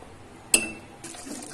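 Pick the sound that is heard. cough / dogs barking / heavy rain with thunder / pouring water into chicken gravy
pouring water into chicken gravy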